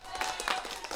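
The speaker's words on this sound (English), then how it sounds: "Can you hear my applause?" A handful of quick claps in a small room, thin and close to the microphone, more like one or two people clapping than a crowd, with a faint tonal hum underneath.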